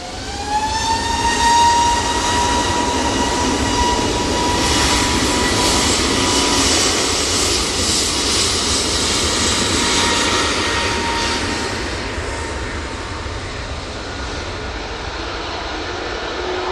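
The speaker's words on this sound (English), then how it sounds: "Coming on to final now, we have the Arini coming in from Guernsey" An Aurigny airliner from Guernsey on final approach to land at Manchester Airport, its engines roaring loud and steady with a whining tone that holds, then slowly fades as it passes.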